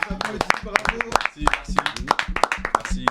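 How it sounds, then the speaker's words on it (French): A small group claps after a debate, with sparse, uneven individual claps close by, mixed with overlapping voices talking and reacting. "est-ce qu'on peut s'applaudir quand même?"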